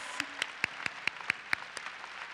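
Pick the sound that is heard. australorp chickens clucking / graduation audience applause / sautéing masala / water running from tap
graduation audience applause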